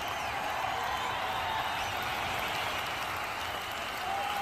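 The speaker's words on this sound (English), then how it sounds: "Let's get the stands to cheer for the Indian team" A stadium crowd at a FIFA legends versus Indian icons match roars and claps for the Indian team, a dense, continuous wash of cheering and applause filling the space at steady loudness.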